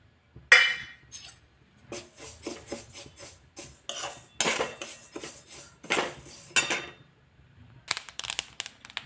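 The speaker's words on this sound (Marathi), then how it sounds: "सर्वप्रथम आपण याच्यामध्ये तीळ भाजून घेऊया" Sesame seeds are roasted in a pan for sesame laddoos, heard as bursts of metallic scraping and clinking from stirring, separated by short quiet gaps.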